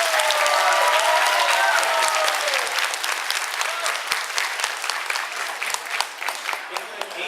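A crowd gives a big round of applause for a colleague's birthday, sustained dense clapping that holds steady for several seconds with a few cheers at the start.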